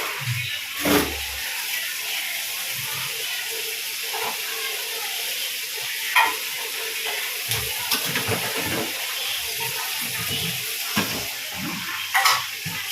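Chilli chicken frying in a pan with vinegar gives a steady broadband hiss and sizzle throughout, with occasional soft clinks and low thumps from stirring, close and moderately loud.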